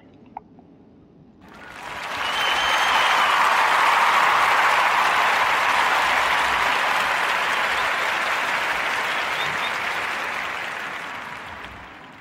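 A live podcast audience breaks into applause after a faint opening moment, the crowd clapping swells quickly to a loud, dense, sustained wash and slowly eases off over about ten seconds.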